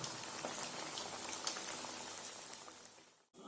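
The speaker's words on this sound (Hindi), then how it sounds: "इसको हल्का आंच में मैं थोड़ा 5 मिनट तक फ्राई करूंगा उसको और ब्राउनिश करने के लिए दूंगा।" Gaja pitha, a home-made Odisha sweet, frying in oil on low heat: a steady, dense sizzle with scattered fine pops and crackles, close and fairly quiet, cutting off abruptly near the end.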